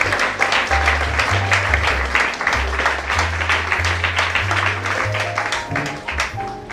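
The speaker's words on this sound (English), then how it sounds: "can you accompany her with that round of applause once again?" An audience at a cabin crew fair breaks into a loud round of applause that continues throughout, with steady clapping heard close by and a low background hum underneath.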